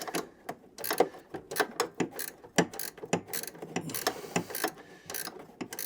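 A bolt on the front wheel of a Hayter 41 lawnmower is tightened into aluminium by hand with a ratchet, giving a steady run of close, crisp clicking strokes with no talk.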